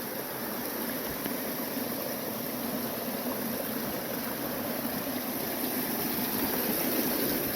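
A mountain waterfall below a glacier near Lemah Meadow above Waptus Lake gives off a steady, even rush of falling water, heard from far off as a continuous broadband roar with no voices.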